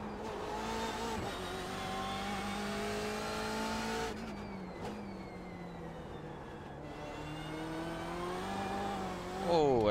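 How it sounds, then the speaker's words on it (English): A BMW M8 GTE race car in the iRacing sim roars with a loud, sustained engine note that rises and shifts through gears, with a brief burst of wheel spin and a sharp rev climbing at the very end. "A little bit of wheel spin there, pushing a bit too hard."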